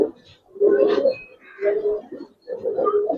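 Giribaz and coloring pigeons in a loft give three close, full-throated coo phrases separated by short pauses, with faint rustling between calls.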